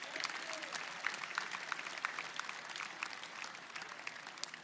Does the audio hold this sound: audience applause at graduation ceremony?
yes